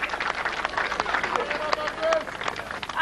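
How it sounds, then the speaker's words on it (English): A crowd applauds at a World's Strongest Man strongman event, a dense, steady patter of clapping heard under a commentator's voice. "the crowd appreciating a difficult test"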